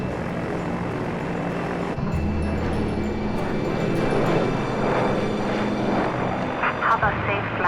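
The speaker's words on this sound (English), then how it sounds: "Charlie Foxtrot Tango X-ray Bravo is cleared for takeoff, runway 18." Deep roar of aircraft engines building during takeoff of a propeller airliner, a heavy continuous rumble at steady volume, with voices in the background.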